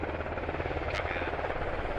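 A damaged helicopter in the video game Squad gives a continuous, loud, close rotor drone with a rapid pulsing chop and a brief higher whine partway through.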